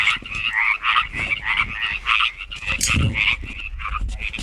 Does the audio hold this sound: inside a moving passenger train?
no